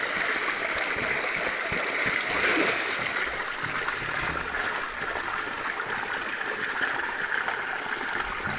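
Steady rushing and splashing of water as someone bathes in a shallow village stream, a continuous close wash of flowing water with no speech heard.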